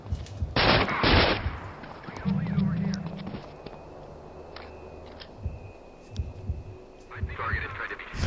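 Gunfire in the Manhunt video game: a couple of loud close bursts early, then scattered quieter shots and game noise over a low hum.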